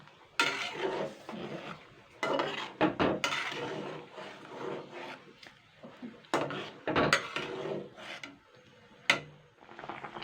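A spatula or ladle stirs potatoes boiling in a pot of water for homemade crispy French fries. Irregular scraping and knocking bursts against the metal pot are separated by quieter gaps.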